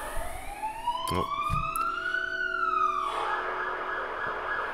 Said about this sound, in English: It's a siren going past.